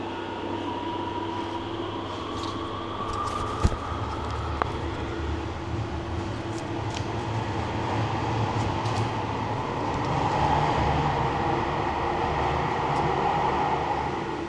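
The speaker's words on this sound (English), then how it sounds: "the train's right in front of us" A train waiting at Misashima Station gives off a steady, loud mechanical rumble and hum, swelling slightly toward the end, with a couple of sharp clicks early on.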